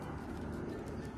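Racing pigeons released at dawn in Caranglan, Nueva Ecija give a soft, near-continuous cooing within a dense, steady outdoor murmur.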